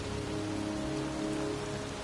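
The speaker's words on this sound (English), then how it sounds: "It's raining." Steady rain falls in a cemetery in the video game Heavy Rain, a dense, even hiss of drops on the ground, soft and constant throughout, with no voices.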